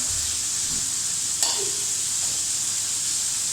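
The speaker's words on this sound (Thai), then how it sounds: "ทำการผัดนะฮะกะเพราหมูแรบนั่นเอง" Minced pork stir-frying with holy basil for pad kra pao over a homemade gas burner, a constant close sizzle with one brief clank of a utensil partway through.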